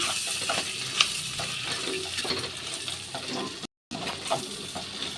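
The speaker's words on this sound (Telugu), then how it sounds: "మటన్ కైమా ఫ్రై చేస్తున్నాను" Mutton keema frying in a pan for a Friday special curry, giving a steady close sizzle with light stirring and scraping and a faint watery hiss, with no voices throughout.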